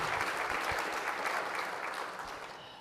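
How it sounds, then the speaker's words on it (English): An audience claps at a fashion show and keynote event, a full, steady burst of applause that slowly thins and fades toward the end. "Applause for that."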